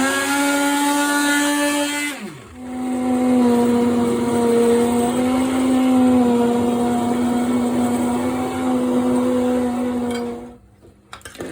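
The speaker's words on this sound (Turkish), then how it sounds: "Şimdi miksere vurabilirsiniz." A hand blender pureeing cooked potato soup whirs at a constant high pitch for several seconds after a short lower hum, then cuts off abruptly.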